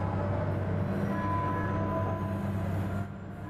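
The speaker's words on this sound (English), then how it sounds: "Take the tram over and hope nothing bad happens." A tram in Mass Effect 2 travels along with a steady, dense rumble and rolling rail noise that holds level for about three seconds, then eases slightly softer.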